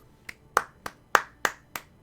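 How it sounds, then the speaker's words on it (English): A single person claps slowly after an NGS Season 9 Heroic playoff quarterfinal match: about seven crisp, close hand claps at an uneven pace with short gaps between them, and no talking. "I have to clap."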